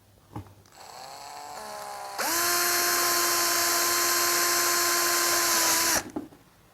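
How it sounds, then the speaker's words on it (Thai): An electric power drill bores a hole during a repair, first a short lower-speed spin-up, then a loud steady high whine for several seconds before stopping abruptly. "จากนั้นเราก็มาเจาะกันเลยนะครับ"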